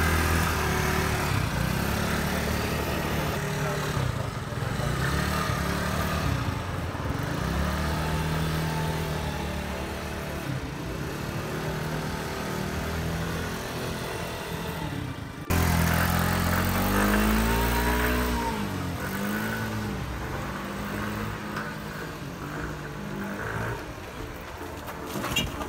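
A 2018 scooter engine with a jammed throttle whines and revs continuously at a high pitch, wavering up and down. The revving is moderately loud and gets sharper partway through, with no talk over it.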